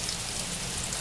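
Rain falls outside in a steady, dense hiss of drops, continuous and fairly close, with no voices.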